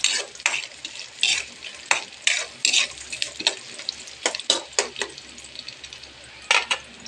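Ingredients stirred and browned in a pan, with repeated sharp scraping and clacking strokes of a utensil over a soft background sizzle, close and fairly loud, coming in irregular bursts.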